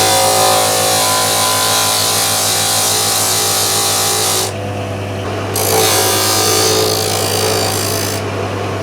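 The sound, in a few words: sanding a wooden USB cover by hand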